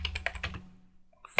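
Several quick keystrokes on a computer keyboard, clattering close up, then a short pause before one more sharp tap.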